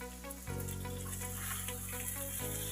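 Tomatoes are dropped into a pan of mutton masala, and the oil jumps to a louder, steady sizzle and crackle that carries on with a brief shift near the end.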